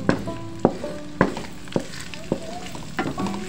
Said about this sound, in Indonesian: Kita harus tumis benar-benar ini ya, benar-benar panas biar enggak cepat basi